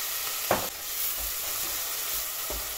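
Pepper and tomato paste frying with onions in a pan, giving a steady close sizzle with a few short stirring scrapes and no talking.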